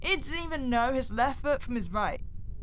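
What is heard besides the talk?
No everyday noise stands out behind the speech.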